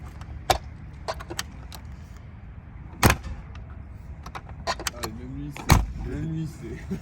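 Mercedes G-Class door clicks open and slams shut with two sharp, heavy thuds a few seconds apart, amid small rattles and jangling, with voices talking nearby.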